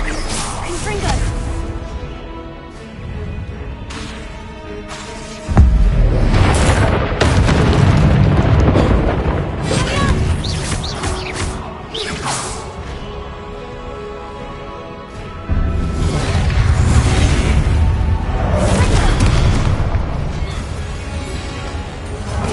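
A Confringo spell explodes in a Harry Potter video game, with two heavy booming blasts several seconds apart, each followed by a long rumbling, crackling tail over game music and sound effects.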